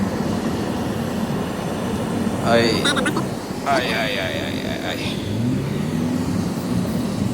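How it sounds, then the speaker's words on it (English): Heavy, congested road traffic heard from inside a moving vehicle as a steady low engine and road rumble, with brief passing vehicle sounds in the middle and people talking over it. "it's a very bad traffic."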